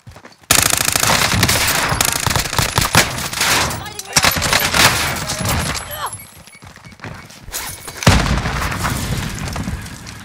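Rapid automatic gunfire rattles in Call of Duty Warzone (Cold War), including AMAX assault rifle fire, in dense sustained bursts with booming impacts and a brief lull before firing resumes.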